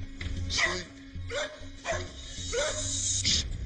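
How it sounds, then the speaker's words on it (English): A rescue dog barks nearby, four or five sharp, loud barks spaced roughly half a second apart, with some whimpering tone between them. "Same dog barking"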